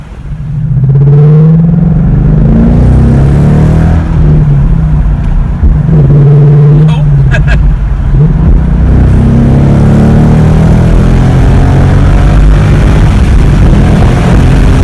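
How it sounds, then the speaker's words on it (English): A car fitted with a Corsa cold air intake drives along, its engine rumbling loud and close with a couple of rising revs early on, the drone continuing steadily throughout without any talk. "We're going to take it for a little bit of a drive here and see what kind of difference it makes."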